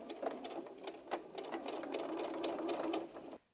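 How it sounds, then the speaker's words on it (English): A sewing machine stitches a straight quarter-inch seam across a doll's slip-on shoe, with a steady, close whirring patter of needle strokes that runs for about three seconds and then cuts off. "we're going to sew from one corner to the other, straight across"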